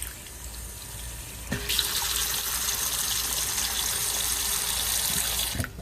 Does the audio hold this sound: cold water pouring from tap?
yes